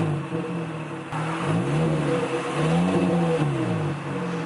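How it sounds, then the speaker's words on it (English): A car engine with a drilled muffler revs up and down several times, a rough, burbly, popping exhaust note rising and falling, close by and loud with no talking. "So I'll rev it a little bit and you guys can hear what it sounds like"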